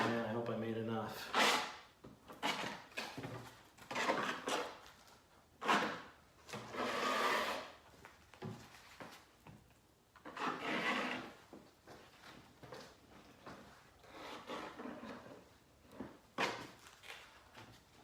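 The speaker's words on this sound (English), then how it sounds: "I'll spread this around. This is just a mud trowel for sheetrock." Sheetrock mud trowel scraping and spreading epoxy across a simulated concrete table top, with repeated rough rubbing strokes close by and brief pauses between passes; someone speaks at moments throughout.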